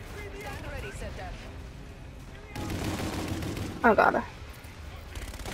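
Gunfire in Call of Duty: Infinite Warfare, bursts of rapid shots rising midway with a sharper loud crack near the end, while a player speaks briefly over the action.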